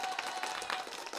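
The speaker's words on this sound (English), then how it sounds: "Let me clap for y'all louder, yo." Faint hand clapping from one person on a virtual happy hour call, a quick run of soft, slightly distant claps with a thin, tinny quality.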